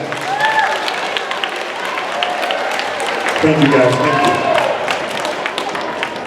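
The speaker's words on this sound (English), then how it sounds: "Give these guys a round of applause" Audience applause fills a middle school anti-bullying assembly, a steady wash of clapping lasting the whole stretch and swelling slightly midway, while someone speaks over it.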